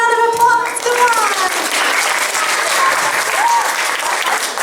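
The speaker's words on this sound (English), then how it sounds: "Give her a round of applause." Parents and children in the audience at a camp virtues presentation applaud an 8-year-old student as she comes up. The clapping is dense and continuous throughout, with a few voices briefly audible at the start.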